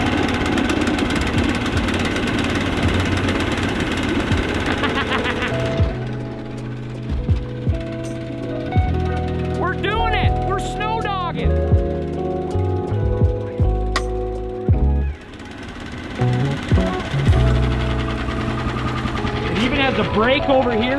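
A Snowdog snow machine's engine starts on electric start and runs, a steady mid-pitched idle and rev with a knocking rhythm that rises as gas is given, close and loud, with a person talking over it.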